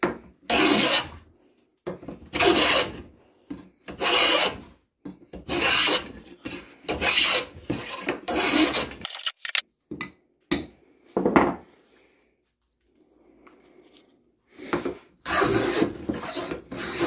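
Scrub plane, Lie-Nielsen and Stanley, taking thick wood shavings: repeated rough rasping strokes, each about half a second to a second long, in an irregular rhythm with brief gaps, close and crisp with no voices.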